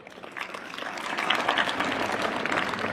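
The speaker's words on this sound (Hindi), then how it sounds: "जोरदार तालियां अपने लिए।" Children clap loudly at a talk about study and discipline, a dense steady patter of many hands that swells after the first half second and holds strong to the end.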